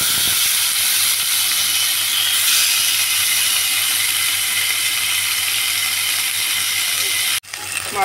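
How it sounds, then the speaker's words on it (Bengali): Rohu fish pieces sizzle in hot mustard oil, a loud steady frying hiss that runs nearly unbroken for several seconds before dropping off sharply near the end. "তেল গরম হয়ে যাওয়ার পর দিয়ে দিচ্ছি আমি মাছগুলো তেলে"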